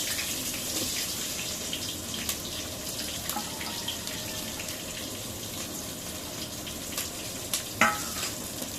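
Onions and green chilies fry in a pan with a loud, continuous hiss of sizzling oil throughout, broken by occasional clinks and scrapes of stirring.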